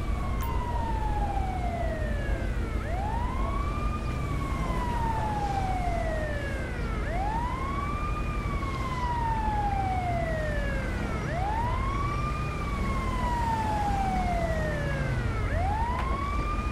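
An ambulance siren in Grand Theft Auto V wails in repeated rising-and-falling sweeps, loud and continuous over a steady engine and road rumble, with no voices.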